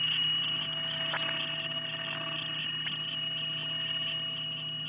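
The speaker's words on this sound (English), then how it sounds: "This is the sound of a satellite relaying messages to an Earth station." Signal from the amateur radio satellite Oscar, relayed to an Earth station and picked up on a shortwave receiver on the 10-meter band: steady whistling carrier tones over a hiss, with a few brief clicks, heard alone and without speech.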